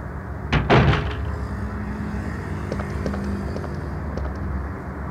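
A door opening in Resident Evil 2, played on a PS1 emulator, with a sharp creak and knock near the start followed by a low, steady rumble of room ambience and a few faint clicks.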